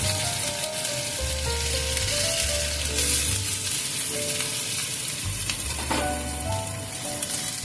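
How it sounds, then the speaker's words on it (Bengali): A medium onion fries in oil with panch phoron, giving a steady, close sizzle throughout with occasional clinks and scrapes of stirring. "পেঁয়াজটা একটু হালকা ভেজে নেব।"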